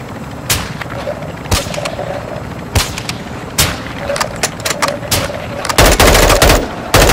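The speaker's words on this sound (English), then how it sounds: "Oh, he's shooting at somebody over there." Gunfire in the Call of Duty DMZ video game: sharp shots and short bursts crack out at irregular intervals, fairly loud, ending in a heavier sustained burst, with faint background game noise and no talk.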